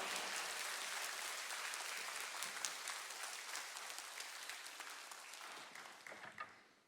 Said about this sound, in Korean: 우리 선교사님 나오실 때 큰 박수와 할렐루야로 환영합니다.